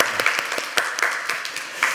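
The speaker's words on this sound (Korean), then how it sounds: "하나님께 감사의 박수 한번 해드릴까요?" A church congregation during a Sunday sermon claps in a moderate round of applause, individual claps clearly distinct and fairly close, keeping up a loose, uneven rhythm.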